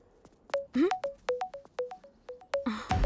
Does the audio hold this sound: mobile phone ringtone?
yes